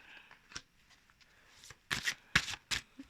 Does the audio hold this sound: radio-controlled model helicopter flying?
no